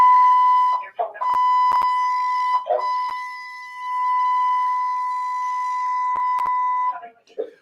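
A series of telephone keypad tones and beeps, some long and sustained, others short, with brief bursts of voice sound between them.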